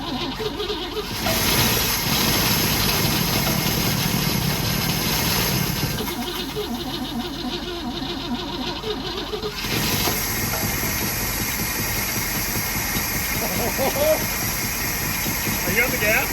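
A rough engine on a long-neglected 1960 Cadillac hearse idles steadily and loudly for the whole stretch, its rumble shifting slightly in tone, with occasional voices under the noise.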